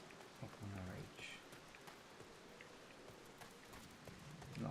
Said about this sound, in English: God, it's like raining here and everything